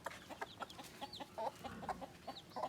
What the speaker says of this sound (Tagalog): Ito yung manok